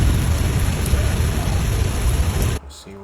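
Heavy summer thunderstorm rain pours as a dense, steady roar, with rumbling thunder low underneath, then drops off abruptly near the end into a quieter, sparser patch.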